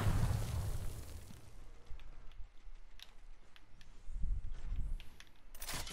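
Grenade explosions from a video game: a heavy booming blast at the start that rumbles away, then a second low boom midway, with scattered small pops and clicks around them.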